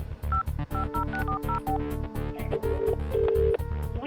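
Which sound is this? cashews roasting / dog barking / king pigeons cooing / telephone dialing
telephone dialing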